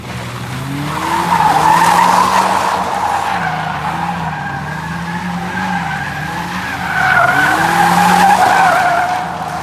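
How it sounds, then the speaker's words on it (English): BMW E36 with a welded differential drifting, tires skidding and squealing loudly and continuously with engine drone underneath, swelling again near the end. "It's so much easier to drift."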